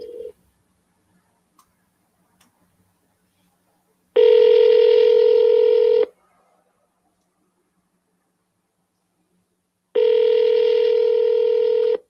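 Outgoing telephone call placing DTMF-style tones: two steady two-second electronic tone bursts separated by about four seconds of near silence, clear and close, with no talking over them.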